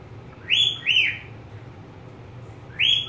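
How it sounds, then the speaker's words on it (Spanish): A pet budgerigar gives three bright rising whistles, two close together and then one more after a pause, loud and near over a low background hum. "Mira mi pajarito silbando."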